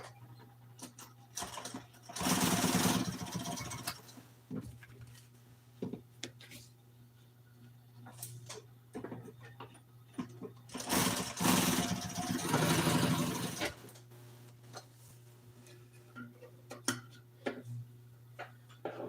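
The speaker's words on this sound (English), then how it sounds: "I'm gonna sew this edge. I'm gonna hem this." A sewing machine hems the edge of a car seat cover for a 1955 Chevy. Two longer loud bursts of stitching stand out against a steady low hum, with scattered ticks and small clicks between them.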